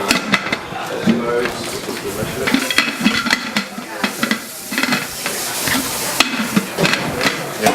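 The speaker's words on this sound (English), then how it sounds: "So, I'm going to get the lid to the pressure cooker." A pressure cooker lid is fitted and locked into place in a Korean home kitchen, a run of close metallic clanks and scrapes with a voice speaking over them.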